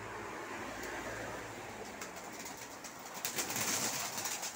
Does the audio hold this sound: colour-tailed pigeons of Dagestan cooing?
yes